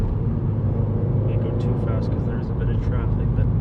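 A 2017 Subaru WRX engine and road noise hold steady and loud while the car is thrown through corners, with a continuous low rumble throughout and a voice talking over it.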